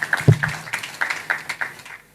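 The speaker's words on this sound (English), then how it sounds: "Can we give a round of applause" An audience at a 2023 Ogun State employment conference applauds a speaker in a short, uneven burst of clapping that fades out within about two seconds.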